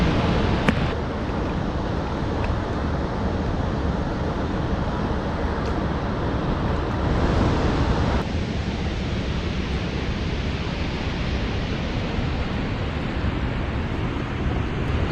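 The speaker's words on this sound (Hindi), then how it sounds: "सामने में आप लोग देखिए दोस्तों, काफ़ी खूबसूरत सा वाटरफॉल" Chitrakoot waterfall pours in a broad, steady roar of rushing water, constant and loud at a distance, with no talking over it.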